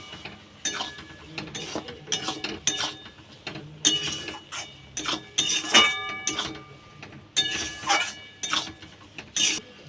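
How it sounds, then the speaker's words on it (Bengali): A spatula stirs chotpoti in a pan, giving a close run of uneven metallic scrapes and clinks in short bursts that repeat across the whole stretch. "এইবার ভালো করে খুন্তি দিয়ে নেড়ে নেব"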